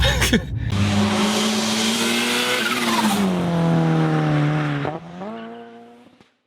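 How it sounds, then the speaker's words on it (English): A Lexus RC F Track Edition with a 472-horsepower V8 drives hard past or under acceleration, its loud engine note rising and falling steadily for several seconds with tire noise, then fading as it backs off. "Today, I'm in the Lexus RCF Track Edition with a 472 horsepower V8."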